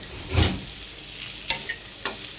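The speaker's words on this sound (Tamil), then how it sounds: "நல்லா காஞ்ச அப்புறம் பீஃப் போட்டு உப்பு போட்டுக்கணும் தேவையான அளவு. நல்லா வதங்கணும்." Salted beef cooking in a hot pan, a soft sizzle under a few distinct stirring knocks and scrapes, close and alone.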